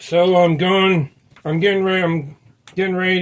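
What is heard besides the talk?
No everyday noises stand out.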